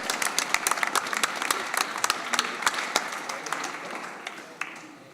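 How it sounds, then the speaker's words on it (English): An audience at a panel event gives a round of applause, with distinct claps near and far forming a scattered, moderately loud patter that thins out toward the end. "how about one more round of applause for our panel that was here today?"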